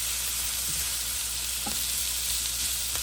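Peppers and onions sizzle steadily in a hot pan, a continuous close frying hiss with a few faint stirring clinks and scrapes, no one talking.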